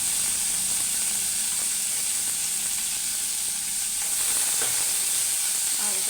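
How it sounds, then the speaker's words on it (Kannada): Boiled bitter gourd fries in hot oil in a pan, a steady bright sizzle holding even throughout, with faint stirring scrapes beneath and no voices. "ಜಸ್ಟ್ ಸ್ವಲ್ಪ ಫ್ರೈ ಮಾಡಿದ್ರೆ ಸಾಕು"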